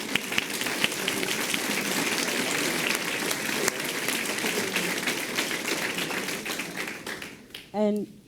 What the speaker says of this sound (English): round of applause for our ninth graders.